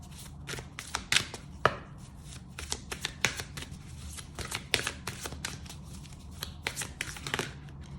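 A deck of chakra cards is shuffled and drawn by hand, heard as close, rapid bursts of riffling and sharp card snaps in an irregular rhythm, with no talking.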